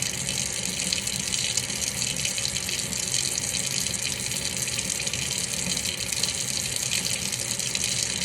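Tap water runs steadily into a sink during handwashing in a health care setting, a loud, continuous splashing gush with no breaks and no talking.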